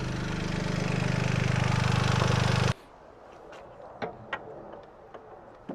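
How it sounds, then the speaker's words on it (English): A Toyota GR Yaris engine with freshly changed spark plugs runs at a loud, steady idle for almost three seconds, then cuts off abruptly, leaving faint scattered knocks and clicks. "first startup, starts up sweet as a nut, no issues"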